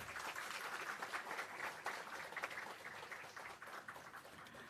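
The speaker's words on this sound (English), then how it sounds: "Another round of applause for them," Faint audience applause for honored colleagues at an anniversary lecture event, a soft, dense patter of clapping from a distant crowd that fades slightly toward the end.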